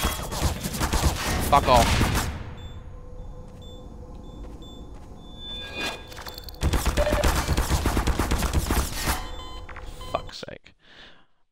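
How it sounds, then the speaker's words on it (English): Bursts of rapid gunfire hit the player in the video game Half-Life 2, a loud volley at the start and another dense barrage later, with electronic beeps in between and a man cursing briefly. "I'm just getting shot now"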